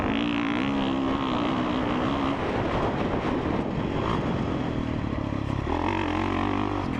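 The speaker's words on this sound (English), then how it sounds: "even with these stock mufflers, the whole stock exhaust system, it sounds so good." Stock-muffled dirt bike engine with full stock exhaust, running loud and steady close by, a continuous throaty drone that rises and settles in pitch as the throttle shifts near the end.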